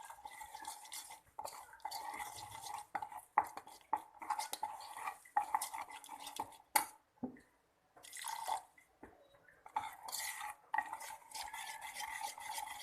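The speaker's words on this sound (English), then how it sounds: "I am mixing the rice flour with water." Rice flour batter with water and sugar is whisked or stirred in a bowl for dosa. Close, intermittent bursts of scraping and splashing stirring come with brief pauses between strokes.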